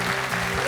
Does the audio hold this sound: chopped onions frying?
no